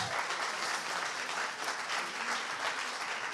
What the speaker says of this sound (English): Big round of applause for Anna Pojajski